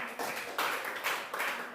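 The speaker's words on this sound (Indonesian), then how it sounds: "Tepuk tangan dulu." A classroom of students clapping hands together, several quick bursts of applause close by with short pauses between them.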